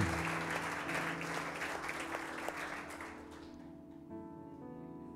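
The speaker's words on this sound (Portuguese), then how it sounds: "Você pode aplaudir Jesus bem forte?" A church congregation applauds Jesus during a sermon, dense sustained clapping with music-like tones underneath that fades into a held musical chord near the end.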